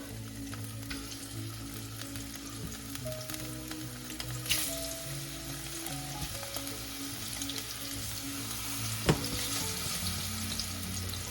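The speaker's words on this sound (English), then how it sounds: "fry our bananas first. Got a little bit of oil there." Halved bananas fry in a little oil in a pan, giving a steady, even sizzle throughout with a few light clicks and clatters, with no one talking.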